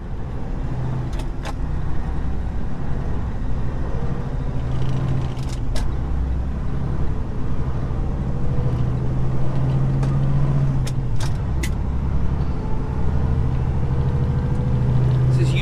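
Steady road and engine rumble from a car cruising along a highway in Utah, constant and fairly loud throughout, with occasional brief clicks and rattles inside the cabin.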